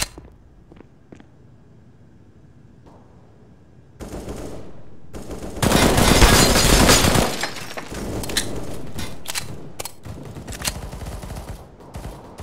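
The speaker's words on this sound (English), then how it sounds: "Deploying flashbang." A flashbang grenade detonates in the game CS:GO: after a few faint clicks, a sudden loud burst erupts with a bright, ringing crackle and sharp shattering bursts that persist and fade in scattered pops.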